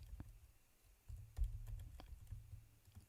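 Typing on a computer keyboard while building a login form in Figma: a run of soft, quick key taps, close and fairly quiet, with no talking.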